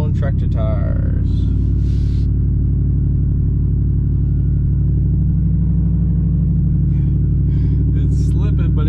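A farm tractor's engine drones low and steady as it strains to climb a muddy hill, rumbling loud and continuous with brief voices near the start and end.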